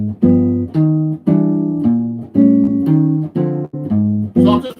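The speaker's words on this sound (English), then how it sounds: "I'm just playing 2 notes actually with the bass line on the bottom." Jazz guitar plays shell-voicing chords, two notes over a walking bass line, in a steady rhythm of short, plucked chord hits, close and clear with no talking.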